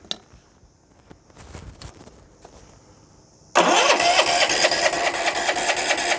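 A lawn mower engine with a faulty starter motor that will not stop: quiet clicks and rattles, then the engine abruptly catches and runs loudly and steadily.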